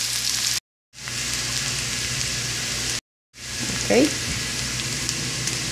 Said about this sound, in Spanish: Ok, ya está muy caliente el aceite. Ahora agregaremos la cebolla y vamos a mover un poquito.